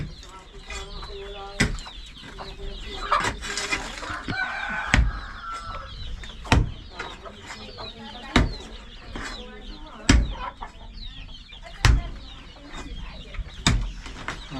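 Backyard chickens cluck nearby in a loose, ongoing chatter while a person talks, with sharp knocks recurring every couple of seconds.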